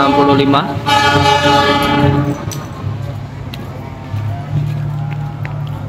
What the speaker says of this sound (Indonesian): Dari kejauhan gerakan langsiran dari rangkaian kereta api Gumarang KA 165